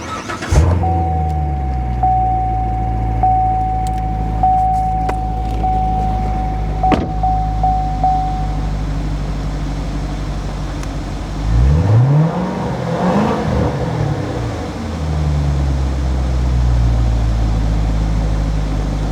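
A red 2016 Corvette engine turns over with a whirring starter, then idles with a low rumble and revs up once before settling back to a steady idle.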